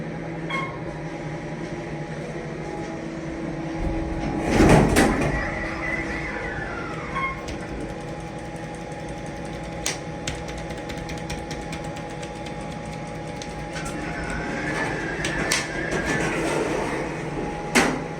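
A rough 1998 Otis Series 1 hydraulic elevator at a Sleep Inn in Carlisle, PA runs with a steady low machine hum, a louder clunk or door movement partway through, and faint rattles and ticks throughout.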